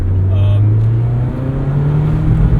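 A 2025 Mazda MX-5 Miata Club sports car drives along with a steady, loud low engine drone and road noise that holds throughout, rising slightly in pitch near the end.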